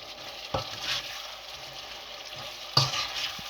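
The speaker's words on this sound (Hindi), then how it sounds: "हल्दी ऐड करके मैं इस तरह से पहले मिक्स करूँगा।" Mutton with turmeric in a frying pan under a low steady sizzle, with two sharper scraping clinks of a spoon against the pan while it is mixed.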